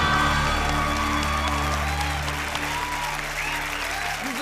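Steady applause from a small group during a party game, loud and continuous, tapering slightly toward the end with voices faintly underneath.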